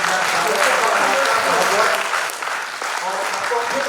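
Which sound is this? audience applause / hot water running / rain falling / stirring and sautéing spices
audience applause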